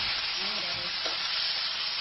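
Tomatoes sauté in hot oil for Ilocano pakbet, giving a steady, close sizzle and crackle that fills the whole stretch, with a faint scrape of stirring partway through.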